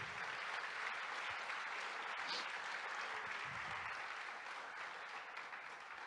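Continuous applause from a church congregation, a soft, even wash of clapping heard at a distance and fairly quiet, with no clear voices over it.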